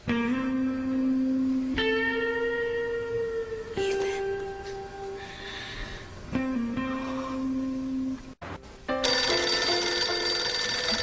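A telephone bell rings in repeated bursts, fairly close and clear, with short pauses between rings and no talking heard.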